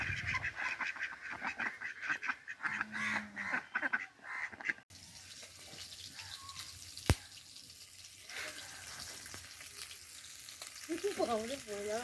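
Bhetki fish frying in oil in a pan over a wood-fired clay stove, a soft hiss and crackle with a sharp clunk midway and faint background sounds, fairly quiet overall.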